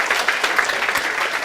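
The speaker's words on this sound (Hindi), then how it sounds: "जोरदार तालियां उसके लिए बेटा." A room of students in a law class applauds with steady, close clapping for a second and a half, with no voices over it.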